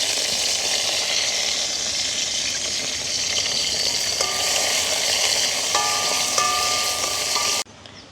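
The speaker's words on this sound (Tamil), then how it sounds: "எண்ணெய் சூடாகிட்டுது மிளகாயை பொரிச்சு எடுப்பேன்" Chili peppers frying in hot oil in a village kitchen, a loud steady sizzle and crackle that continues throughout with faint clinks of a utensil, cutting off abruptly near the end.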